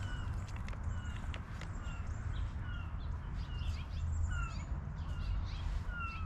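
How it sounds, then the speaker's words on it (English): Seagulls calling overhead outdoors, several short squealing cries scattered over steady low rumbling background noise, faint to moderate and without talk. "Yes, seagulls, we hear you"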